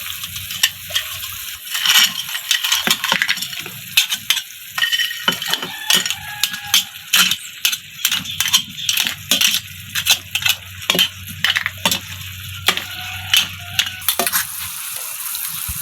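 Mud crabs go into a hot pan and crackle loudly. Dense, irregular clatters and knocks of shell against metal ring out over a continuous sizzle, close and busy throughout.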